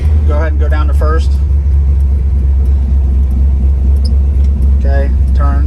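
A 1973-1987 Chevrolet C10 pickup idles with a steady low engine rumble inside the cab, clutch in while shifting into first, as people talk over it.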